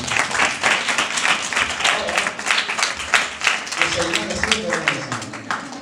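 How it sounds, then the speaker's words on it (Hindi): A crowd applauds with dense, steady clapping at a religious gathering honouring a master, and a voice speaks over it toward the end. "उस्ताद के लिए जोरदार ताली"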